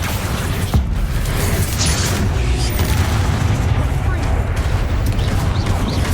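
Bombarda blasting spell in Hogwarts Legacy, a deep rumbling boom with grinding, creaking debris that sustains loudly for several seconds, a sharp crack near the start.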